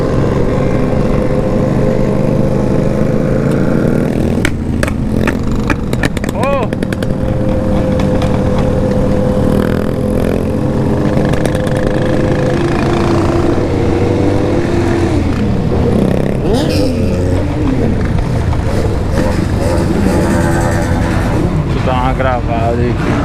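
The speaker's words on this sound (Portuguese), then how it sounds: "Tá tendo tudo que é moto," Many remapped sport motorcycles rev and roar continuously at a night street gathering, engines rising and falling close by with loud overlapping throttle blips, while people talk and shout over the noise.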